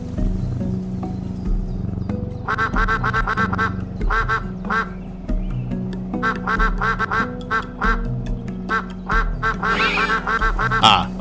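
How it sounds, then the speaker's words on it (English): Cartoonish duck quacks from the video game SCHiM come in quick clustered bursts over a soft, steady tonal game backdrop, with a busier, slightly harsher flurry near the end. "We're going to the ducks."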